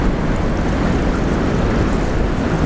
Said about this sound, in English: It is nice today, wind blowing good and strong though.